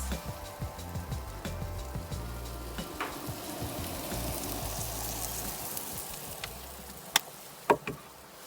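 Zucchini noodles cooking in a pan give a steady, soft sizzle and crackle that runs the whole way through. A few sharper pops and ticks break in near the end.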